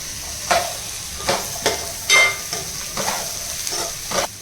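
Rajma and rice mixed with cumin powder being stirred in a hot pan, a spoon scraping in repeated strokes roughly every half second over a soft steady sizzle, close and moderately loud.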